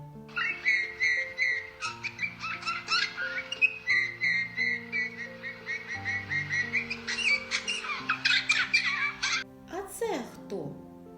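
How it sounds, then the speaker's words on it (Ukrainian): A bullfinch sings a run of soft, piping whistled notes and warbles repeated in short phrases over about nine seconds, fairly close, ending in a few brief louder calls; recorded with no talking. "Давайте послухаємо, як снігур співає."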